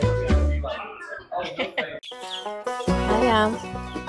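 Chickens and chicks at a rural American farmstead cluck and peep in short bursts, close by, mixed with people talking over them.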